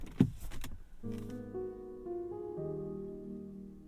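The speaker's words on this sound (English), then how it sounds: "Always like the welcome and exit sounds Hyundai puts in their vehicles." A couple of soft clicks and thumps, then a gentle electronic exit chime plays a short rising melody of sustained tones inside a quiet 2023 Hyundai Santa Fe Calligraphy.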